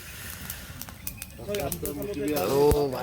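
Pigeons coo in soft, low, throaty phrases, with brief fluttering nearby, while a person talks over them outdoors.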